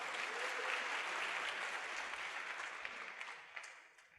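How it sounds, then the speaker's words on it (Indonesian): Indoor seminar audience of men and women applauding together, a dense burst of clapping that starts full and gradually thins out and fades toward the end, with no talking over it. "Aplaus buat Anda Bapak Ibu."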